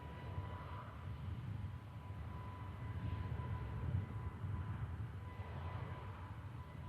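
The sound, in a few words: Ryanair Max aircraft takeoff roll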